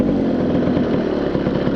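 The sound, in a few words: Lambretta scooter engine idling at tick over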